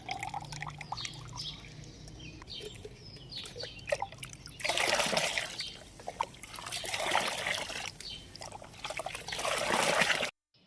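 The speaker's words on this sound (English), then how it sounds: "pour this golden liquid directly onto the soil near the base of your plants" Liquid fertilizer trickles and pours onto soil in uneven bursts, splashing softly near the listener, with faint bird chirps and small clinks in the background.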